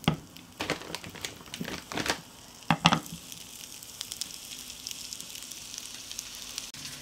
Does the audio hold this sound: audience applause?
no